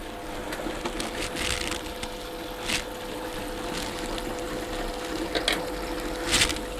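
Beko washing machine running a rinse cycle, with a steady low hum and faint water sloshing. Soft intermittent swishes and knocks sound at close range.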